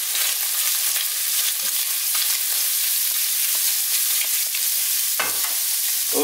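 Browned chicken pieces and freshly added onion fry in a pan, a steady close sizzle with intermittent scraping stir strokes and a sharper clack near the end.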